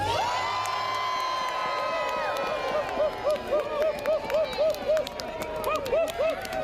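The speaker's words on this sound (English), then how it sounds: "cheers erupt from the crowd" A crowd at an outdoor Groundhog Day shadow proclamation breaks into cheers and whoops, a loud sustained roar with rhythmic shouted bursts after an amplified voice.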